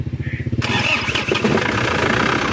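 A motorcycle engine cranks with a rhythmic starter churn, then catches and roars as the throttle is opened, staying loud and close through repeated revs while someone talks over it.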